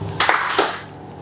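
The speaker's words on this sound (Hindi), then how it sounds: "एक ताली बजानी है." A group of participants at a corporate team-building workshop clap once together, a short loud burst of hands with a brief ragged tail, no talking over it.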